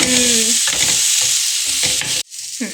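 Coriander seeds fry in oil for chicken sukka masala, a loud, continuous sizzle broken by stirring scrapes, with a brief dip in level near the end.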